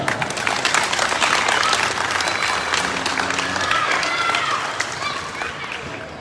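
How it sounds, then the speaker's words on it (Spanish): An evening neighborhood gathering in the Policarpa barrio of Puerto López breaks into loud crowd applause and clapping, bursting at once and fading gradually over several seconds, with some voices mixed in. "Denle un aplauso a nuestro barrio Policarpa."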